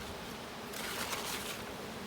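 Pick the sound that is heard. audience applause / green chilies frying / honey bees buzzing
honey bees buzzing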